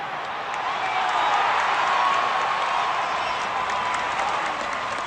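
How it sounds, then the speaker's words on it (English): Crowd at Yankee Stadium cheering a base hit, a broad roar of applause and cheers that swells and then holds steady across the stands. "a big cheer going up here from the Bronx faithful as Frank Tepedino steps in now"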